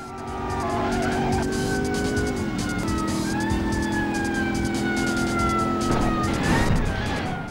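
Police sirens wail steadily over racing car engines and tire skids during a getaway chase in the video game Driver 2, loud and continuous throughout with no talking.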